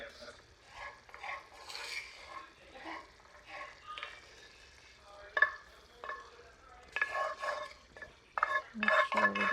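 Vegetables are stirred into salmon cooking in a pan, with soft sizzling and irregular scraping and clinking of a utensil against the pan, some moments louder than others.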